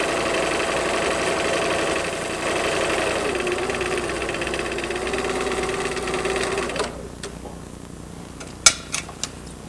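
A sewing machine runs steadily while zigzag stitching a facing onto a pocket bag, a continuous mechanical whir for several seconds before stopping, followed by a few sharp clicks and taps.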